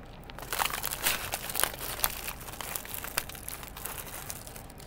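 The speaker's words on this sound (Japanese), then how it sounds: "すいませんね、ガサガサちょっとうるさいかもしれないよ。" A plastic bag crinkles and rustles close by in irregular bursts while someone eats curry bread, with no talk over it.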